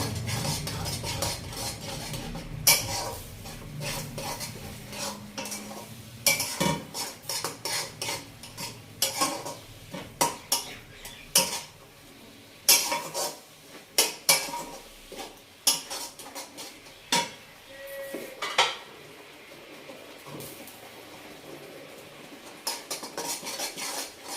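A spoon stirs and scrapes through grated coconut with melted sugar, garam masala and cinnamon in a pan for coconut barfi, in repeated clinking, scraping strokes with a faint sizzle beneath.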